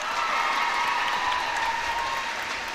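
Home crowd applauding at a netball match between Israel and the Isle of Man, a steady wash of clapping and cheering that holds evenly throughout without a break.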